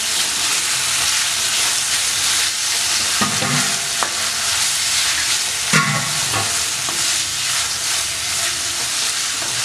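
Chilli bread being stirred in a pan with chilli sauce, other sauces and tomato ketchup: continuous sizzling and frying with a few scraping stirs of a spatula, close and steady, with no talking.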